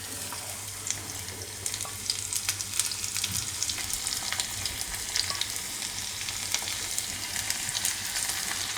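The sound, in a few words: crushed garlic frying in a pan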